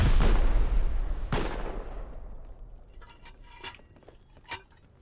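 Turret gunfire at a raided compound in the video game Rust, with a loud opening blast and a sharp shot about a second later, then scattered fainter, distant cracks and clinks trailing off.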